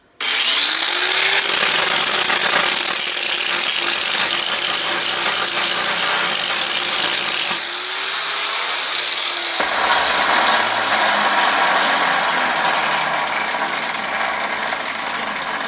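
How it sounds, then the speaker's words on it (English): Angle grinder with a grinder disc working a small anvil, a loud continuous high whine and grinding roar close up, dipping briefly in pitch as the load changes, with no voices. "So that would leave me with a grinder disc."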